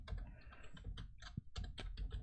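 Someone types quickly on a computer keyboard. The clicks come close and quiet in short uneven bursts with brief pauses between them.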